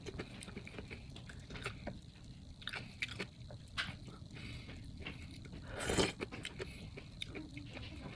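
Close, crisp crunching and wet chewing of a crunchy jellyfish snack eaten with chili, with irregular bites and one louder crunch partway through, heard alone without talk.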